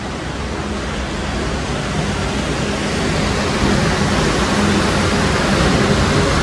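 Rainwater running down off a mountain slope, a loud, continuous broadband rush of flowing water that holds steady throughout without any voices.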